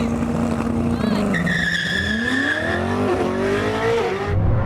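A Koenigsegg Jesko Absolut and a Bugatti Chiron Super Sport race over a standing half mile, engines roaring loudly and steadily with tires squealing as they slip, while a voice talks over the noise.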